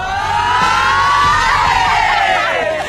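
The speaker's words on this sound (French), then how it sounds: "L'ambiance est bonne enfant, on crie," Young rugby players at a French youth tournament shouting and cheering together: a loud, continuous wall of overlapping young voices yelling and whooping close by.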